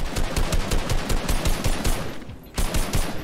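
Rapid automatic gunfire in the video game Fortnite, loud bursts of repeated shots rattling in quick rhythm for about two seconds, a brief pause, then another burst.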